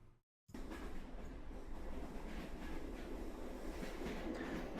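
Steady rumble of a train ride in a video game, dense low clatter and rolling wheel noise filling the whole clip after a brief silent gap at the start, continuous and fairly loud.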